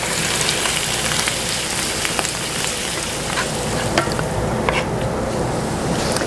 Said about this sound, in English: now I will add my mushrooms